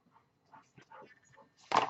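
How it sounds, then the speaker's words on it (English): A dog whimpering softly as it enters an indoor room, a few faint whines ending in one sharper, louder yelp close by. "My dog just walked in."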